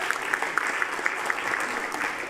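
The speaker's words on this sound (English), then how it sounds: "So huge rounds of applause for that." Brief burst of applause at a full council annual general meeting, a room of people clapping steadily at moderate volume with a few sharper individual claps standing out.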